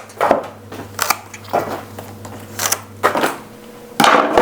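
Sharp snips as a Philodendron sodiroi's leaves are cut off, several crisp cuts and crunches spaced irregularly over a few seconds, close and alone, with no talking.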